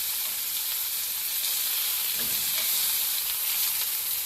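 Flour-coated chicken frying in a pan, giving a loud, continuous sizzle and hiss that stays close and even throughout, with no talk.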